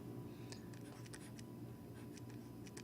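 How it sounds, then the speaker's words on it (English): A pen or pencil scratches out points on paper, faint short strokes in a few bursts over a low steady hum. "Write those points down."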